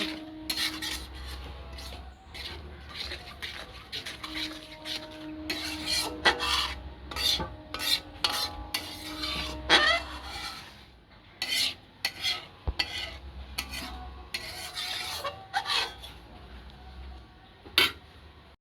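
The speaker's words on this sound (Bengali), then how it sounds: "এবার সব একসাথে ভালো করে মিশিয়ে কষিয়ে নেব" Turmeric and Kashmiri chili powder being stir-fried and mixed in a pan for a rohu fish curry, with repeated scraping and rasping spatula strokes against metal, clinks of utensils and a low sizzle throughout, close and steady.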